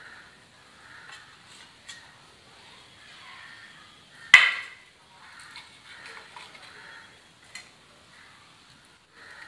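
A spoon scrapes and taps against boiled eggs in a dish, giving faint scattered clicks with one sharper knock near the middle, close and quiet with no talking.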